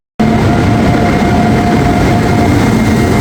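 A crowded train to Ernakulam runs at a steady pace, a loud continuous rumble and engine drone with a faint high whine, heard alone and without talk.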